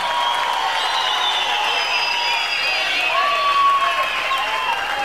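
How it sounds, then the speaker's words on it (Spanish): Crowd at a live show by La Repandilla in Tabuh Disco applauds and cheers in a dense, continuous wash of clapping and shouts, loud and close, with some voices calling out within the noise. "aplauso para la repa, muchachos,"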